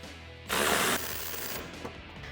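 A ratchet with an 18 mm socket working a bumper bolt loose on a 2019-2020 Silverado 1500, one short burst of rapid clicking followed by quieter mechanical rattling, close up with no speech.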